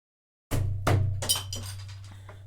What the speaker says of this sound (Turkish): Şişe açtım.